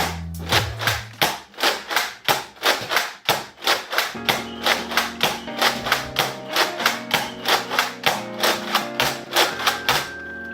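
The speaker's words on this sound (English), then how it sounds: "you hear that when you dry fire it?" A Nerf Mega series blaster being primed and dry fired over and over, a steady run of sharp plastic snaps and thuds in quick succession, close and clear with no talking.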